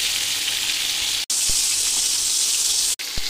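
Fish fries in hot oil in a pan, giving a loud, continuous sizzle broken by two brief cuts.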